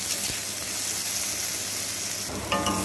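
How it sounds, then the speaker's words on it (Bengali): Onions fry in oil in a wok with a loud, steady hissing sizzle, close and continuous, with a brief burst of stirring near the end. "পেঁয়াজটাকেও হালকা লাল লাল করে ভেজে নেব।"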